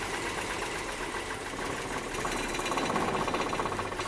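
A Nissan Maxima engine idles roughly with a misfire while cylinder 6 is being tested, giving a steady, uneven mechanical chugging and knocking that grows slightly louder toward the end.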